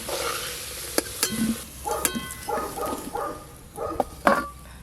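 Potatoes frying in mustard oil, a soft sizzle beneath sharp clinks of a spatula stirring the pan and some faint background sounds, fairly quiet overall.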